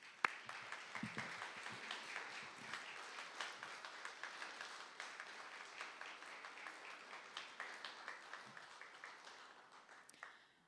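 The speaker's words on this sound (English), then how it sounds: "Let's give them a round of applause." Applause at a student government recognition event, a fairly quiet, thin crowd whose individual claps stand out in an uneven rhythm, continuing for about ten seconds before fading.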